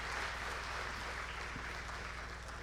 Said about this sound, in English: Keep clapping for the youth minister.